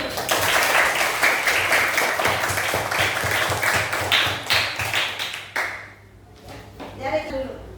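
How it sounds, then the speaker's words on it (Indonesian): Classroom applause from students as a lesson wraps up, a burst of hand clapping mixed with voices that fades out, followed by quieter talk. "kita berikan tepuk tangan dulu"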